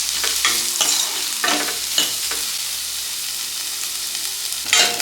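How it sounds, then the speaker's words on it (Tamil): Chopped onions sauté in a pan for squid fry, a continuous close sizzle broken by several distinct stirring scrapes and clinks of a spoon against the pan, with no voices. "வெங்காயம் நல்லா வதங்கட்டும்."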